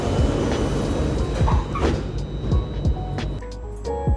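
Steady rumbling interior of a moving train with low rhythmic thumps of wheels over rail joints and faint squeaks, loud and continuous, no talk.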